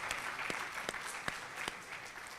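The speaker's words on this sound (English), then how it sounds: "Please give them a round of applause." Audience applause at a Bharatanatyam arangetram dance recital, a steady wash of clapping with a few sharper individual claps standing out, sustained and moderately loud from a crowd.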